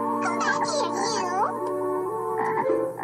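Tiny cartoon frog croaking in warbling, pitch-sliding bursts, close and prominent, with a short pause before another croak.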